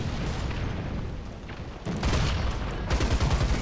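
American tank cannon and gunfire from the M2A4 and M3 in War Thunder, a dense rumbling barrage that swells into a sharp loud burst near the middle and keeps booming repeatedly afterward.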